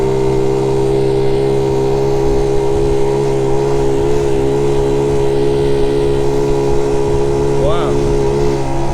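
A 3-speed Honda Monkey Z50 J1 motorcycle engine drones steadily and loudly close by throughout, a constant humming note with a brief rise in pitch near the end.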